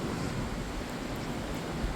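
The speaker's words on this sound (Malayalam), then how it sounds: "കടൽ തീരമാണ്" Sea waves wash onto the shore at Kovalam beach beside the Rock Holm hotel, a steady, dense roar of surf with no break.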